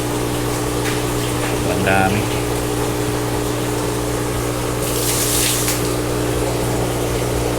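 Steady pumping hum of water being pumped out of a guppy tank, continuous under brief talk, with a louder gushing burst near the end.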